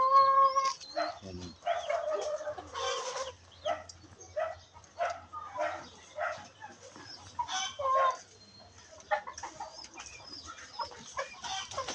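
Agitated squawks and clucks from a fighting rooster newly tied by the leg, in short bursts, close by, with rustling and scuffling between calls; no talking.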